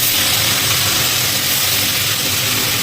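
Potatoes and chicken for biryani sizzling in hot oil, a loud, continuous close hiss and crackle with no pauses.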